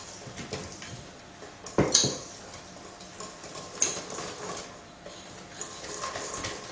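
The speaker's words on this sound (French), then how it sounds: "Et une fois que c'est terminé, incorporez le mélange à la farine." White chocolate muffin batter is stirred into flour in a bowl, giving soft scraping and clinking of utensil against the dish, with a couple of sharper knocks partway through and no talking.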